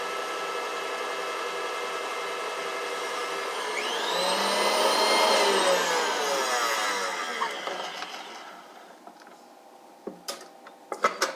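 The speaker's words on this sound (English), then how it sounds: "It goes even faster if your mixer bowl and your beaters have been in the refrigerator before time." An electric mixer whipping cream to soft peaks for a strawberry pudding gives a steady whirring drone whose pitch rises and falls midway, then winds down, followed by a few sharp clicks.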